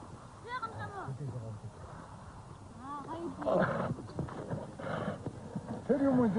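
Horses clip-clop along with repeated whinnies and neighs at moderate distance, while a voice talks over them throughout.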